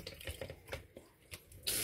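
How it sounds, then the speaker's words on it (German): Tap water runs over salted cucumber slices being rinsed for a cucumber salad with sour cream, a close, splashing stream broken by a few clattering knocks, then a louder rush of water at the end. "Ihr müsst die Gurken wirklich richtig gut ausspülen, damit die nicht salzig schmecken."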